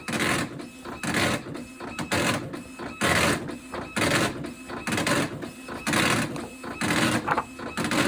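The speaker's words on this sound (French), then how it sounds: "ce n'est pas une imprimante classique, c'est une imprimante braille" A braille printer clatters in loud, rhythmic bursts, each line of rapid punching followed by a short pause, repeating steadily.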